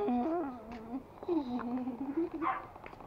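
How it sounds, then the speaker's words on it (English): A Pomeranian indoors gives whiny, high yelps and short barks in a string of uneven bursts, heard fairly close. "Our Pomo is barking inside."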